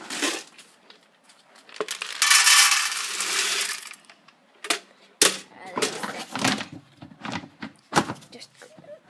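Dry cat kibble rattles and patters into a bowl in a dense pouring burst, then scatters in sharper scattered clinks and ticks, close and loud, with no voices present.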